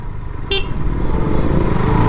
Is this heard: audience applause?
no